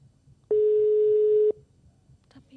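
One long steady telephone ringback tone sounds for about a second on an unanswered outgoing call, clean and prominent over a quiet background, followed by faint clicks.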